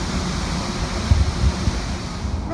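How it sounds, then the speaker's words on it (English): Horsetail Falls, a waterfall along a forest hiking trail, gives a steady broadband rush of falling water with a few low gusty thumps, close and continuous with no voices. "This is Horsetail Falls."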